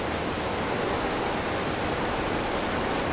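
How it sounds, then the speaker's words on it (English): Roaring water in Tifmore Gorge in the game Eastshade, a dense, loud, unbroken rush like a waterfall that fills the whole stretch with no pauses and no voices. "over the sound of the roaring water."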